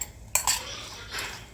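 A metal utensil clinks and scrapes against a bowl while stirring a squid stuffing filling, a few sharp taps followed by a softer scrape, close and alone.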